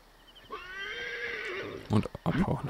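A horse gives a long, loud whinny up close, ending in a few snorts and hoof-like thumps; sound from the video game Assassin's Creed Origins.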